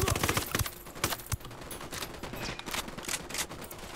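Gunfire coming from all sides in Tom Clancy's Ghost Recon Wildlands, guerrilla mode: sharp overlapping shots and bursts, some close and loud, others further off, crackling irregularly across the whole stretch.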